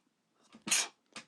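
A single sharp sneeze bursts out near the middle, loud and close, followed by a smaller second one, with quiet room tone and no speech.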